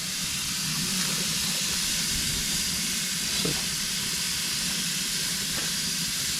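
Tenderloin cooking in a hot pan outdoors after a deer hunt in central Louisiana, giving a steady broadband hiss and sizzle that runs unbroken and fairly loud, with a faint low rumble beneath and no talking.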